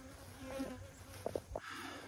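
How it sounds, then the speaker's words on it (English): Honey bees buzz close around a head near an old 1948 Ford COE truck, a faint wavering drone with a few louder passes, quiet and nearby. "I got one buzzing my head now"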